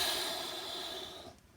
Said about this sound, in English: It's powerful exhale.